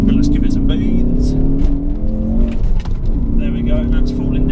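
A Ford Focus ST hot hatch accelerating hard, its engine note climbing loud and close throughout, with a person talking over the strained revving.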